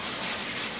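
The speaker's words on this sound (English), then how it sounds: "then we're sanding it flush" Sanding a varnished wood floor flush after its small cracks were filled with matching finish: a steady, close abrasive rubbing swishes along with a faint rhythmic surge and no talk.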